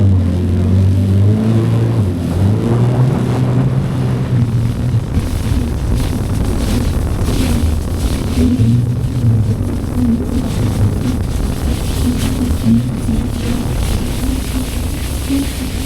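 A boat engine under throttle drones steadily and loudly close by, a rough mid-pitched hum with some whirring noise that holds throughout, offshore near Long Beach.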